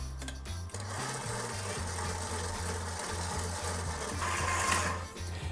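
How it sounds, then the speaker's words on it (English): A stand mixer churns pizza dough for Detroit-style pizza at low-medium speed, its motor giving a steady, close, rhythmic chugging hum with a regular repeating beat as the hook works the dough. "Now I'm going to mix the dough on a low to medium setting for about 5 minutes"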